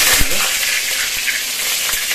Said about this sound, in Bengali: মা এখন জিরা তেজপাতা দেওয়ার পর এখন খুব সুন্দর করে এটাকে তেলে ভেজে নিচ্ছে